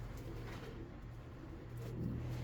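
A laying Uzbek pigeon coos softly in a loft, faint low repeated coos under steady background noise, with no talking.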